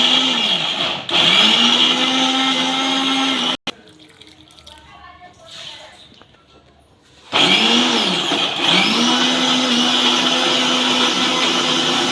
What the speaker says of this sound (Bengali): ডালটা মেশিনে পেস্ট করে নিচ্ছি